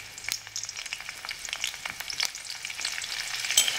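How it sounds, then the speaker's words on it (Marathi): Green chilies sizzle and crackle as they fry in hot oil in a home kitchen pan for a fenugreek-leaf vegetable dish, a steady close hiss scattered with sharp pops and a few stirring clicks. "मिरची चांगली परतून घ्यायची तेलात।"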